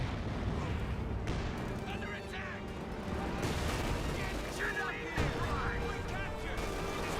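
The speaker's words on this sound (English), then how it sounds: "Just heard some sort of explosion" Distant artillery fire and explosions in the Company of Heroes 2 battle game, scattered thumps and booms behind a busy din of battle and an ongoing voice speaking over it.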